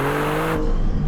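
A 2025 Maserati GT2 Stradale engine revs in Corsa race mode, a loud, close, sustained mechanical roar with strong steady harmonics that shift in pitch partway through.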